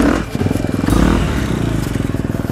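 A dirt bike climbing a hill at a motocross riding area, its engine chugging loudly and close with a rough, pulsing rhythm that sags and falters as if stalling.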